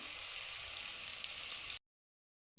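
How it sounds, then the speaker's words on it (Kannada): Onions frying in a pan for lemon chitranna, a steady close hiss and sizzle that cuts off abruptly partway through, followed by near silence. "ಸ್ವಲ್ಪ ಈ ಇರುಳ್ಳಿ ಎಲ್ಲಾ ಫ್ರೈ ಆಗಬೇಕು ಚೆನ್ನಾಗಿ"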